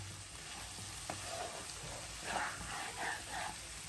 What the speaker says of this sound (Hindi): अब हम इसमें करी पत्ता डाल देते हैं, इसकी बहुत अच्छी खुशबू आएगी।